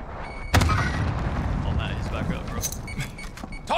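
A frag grenade going off in Call of Duty Warzone on Rebirth Island, one loud sudden blast followed by rumbling battle noise, scattered distant shots and game voices calling out.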